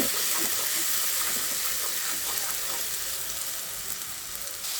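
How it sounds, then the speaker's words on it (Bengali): Onions and ground spices with salt, turmeric and chili frying in oil in a pan for a fish and cauliflower dish: a constant, bright hissing sizzle up close, fading slightly toward the end, with no speech. "এখন আমি পেঁয়াজের সাথে সুন্দর করে মশলাটা কষিয়ে নেব"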